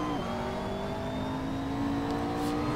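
A car engine held at full throttle in second gear drones steadily and loudly with rising harmonic whine, continuous throughout without voices.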